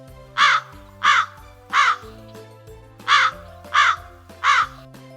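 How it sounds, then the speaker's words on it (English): A crow caws six times in an evenly spaced series, each harsh call loud and close, heard over a soft sustained musical backing. "That was a crow"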